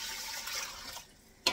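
Water pours in a steady splashing stream onto uncooked rice in an Instant Pot liner, then stops, followed by a brief sharp clatter at the end.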